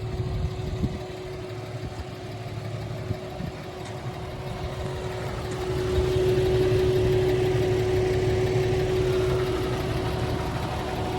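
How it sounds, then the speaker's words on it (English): A 1994 Jeep Cherokee XJ engine idles low and continuous, with a faint ticking hiss from an exhaust leak, growing slightly louder partway through; no voices. "I hear an exhaust leak."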